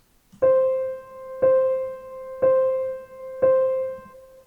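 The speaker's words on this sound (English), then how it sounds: "a piano, single note," A single piano note struck four times at an even, unhurried pace, each strike ringing clearly and fading before the next.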